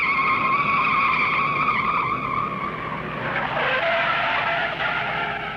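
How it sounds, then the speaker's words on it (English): Stock cars at the 1961 Daytona 500 spin out, tires skidding and squealing loudly over the roar of racing engines, with the squeal shifting and fading near the end. "Look out, two cars spinning."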